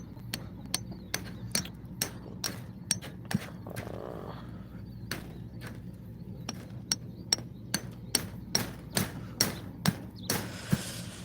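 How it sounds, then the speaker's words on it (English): Sharp hammer blows strike repeatedly at an irregular pace, some in quick pairs, loud and close against a low background hum, with occasional faint creaks and no talking. "I'm trying to hammer stuff in"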